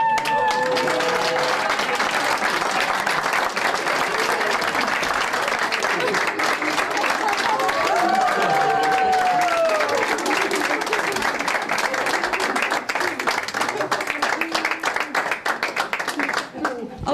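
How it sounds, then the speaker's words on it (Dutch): Sustained loud applause and clapping from a gathered crowd at a Dutch royal honours ceremony, steady for over fifteen seconds with cheers and voices mixed in before it starts to break up. "Applaus!"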